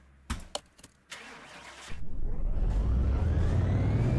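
A modded school bus engine in Car Mechanic Simulator 2018 starts up on the dyno after a few short clicks, then revs into a loud, steady, rising roar that fills the rest of the clip.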